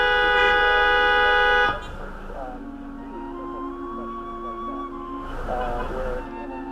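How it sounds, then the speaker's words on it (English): Cars on a road honking, with a long, loud, steady horn blast for nearly two seconds, then more honks layered under someone talking and traffic noise. "thinks they're all honking at her"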